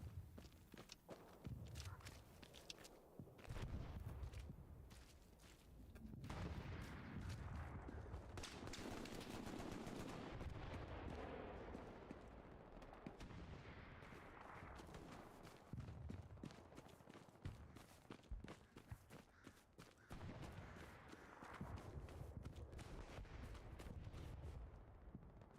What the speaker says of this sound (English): Some really good shooting there.